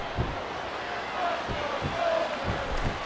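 Video game wrestling crowd at a four-way battle royal, a steady roar of cheering with periodic thumps from the ring, all at a loud, even level.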